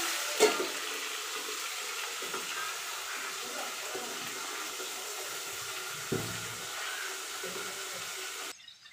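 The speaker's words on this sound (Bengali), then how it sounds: "কাঁকড়াগুলো ভাজা করতে দিলাম, ওইদিকে মাছের মাথা ভাজা হচ্ছে।" Crabs and a fish head frying in oil give off a steady, even hiss with occasional soft pops, close by and fairly quiet, then cutting off at the end.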